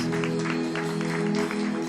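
A church congregation claps as an offering of applause to the Lord during a Spanish-language communion service, with dense, steady clapping over a sustained low hum of music or voices in a reverberant hall.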